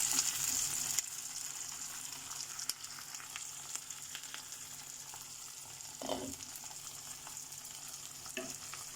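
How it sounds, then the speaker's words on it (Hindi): Tomato with green chilies cooking in a pan for rajma, a steady soft sizzle and frying hiss with occasional stirring scrapes, heard close and alone. "अब इसे कुक करना है कि टमाटर हमारा सॉफ्ट हो जाए, तब तक इसे कुक करना है।"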